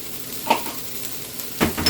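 Minced garlic frying in a pan while being stirred for flank steak with Spanish rice, a soft steady sizzle with a couple of brief scraping stirs.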